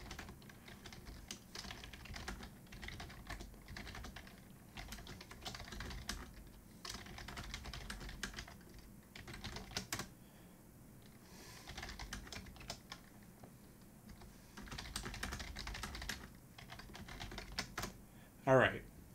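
Typing on a computer keyboard during a Hack The Box hacking exercise: a continuous, fairly quiet patter of rapid keystrokes with brief pauses, close by, lasting the whole stretch.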